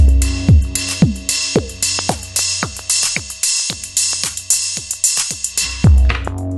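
A programmed drum pattern on an Elektron Analog Rytm drum machine, steady punchy kicks and snappy hits with hi-hats, parameter locks shaping each step, loud and close, running alone without voices.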